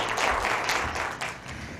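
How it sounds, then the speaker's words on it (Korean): Audience applause welcoming the first lecture speaker on stage at a Korean talk show, dense steady clapping from a small studio crowd, loud and continuous throughout. "뜨거운 박수로 맞아주십시오."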